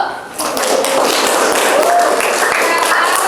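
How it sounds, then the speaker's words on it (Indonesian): Children clapping together in a classroom for a student group's finished work, a steady dense patter of many small hands, with chatter and voices mixed in throughout. "Tepuk tangan dulu"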